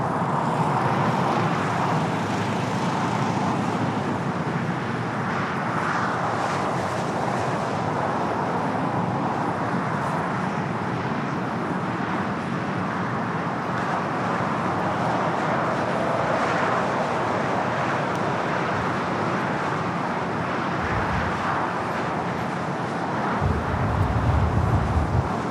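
A Turkish Airlines jet taxis and swings through a left-hand turn at LAX, a steady broadband engine roar that stays constant and fairly distant throughout, blended with low traffic rumble.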